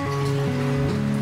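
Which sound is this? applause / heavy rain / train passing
heavy rain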